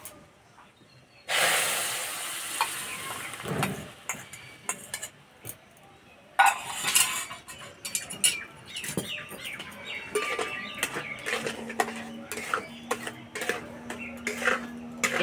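A spatula stirs a ripe mango and sugar mixture in a metal wok, making repeated scrapes and light metallic clinks at close range, with a faint steady hum underneath in the second half.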